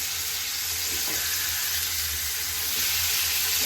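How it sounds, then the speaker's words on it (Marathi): Chicken for mandi frying in a pan as it is turned: a continuous close hiss and sizzle holds steady throughout, with a faint soft knock near the start and no voices. "तर आता आपलं एक साइडनी झालेलं आहे, पलटी करून घेऊया।"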